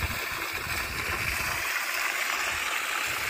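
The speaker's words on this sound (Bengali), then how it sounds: "এই যে এখানে জল পড়ছে।" Water pours steadily into a full village pond, a constant near rushing splash with low gurgling and no talk over it.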